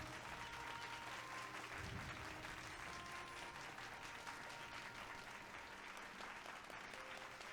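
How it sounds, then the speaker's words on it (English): A crowd in the video game Final Fantasy XIV applauds steadily and continuously, a dense wash of clapping at moderate distance over faint background tones, with no pauses. "Everybody clap."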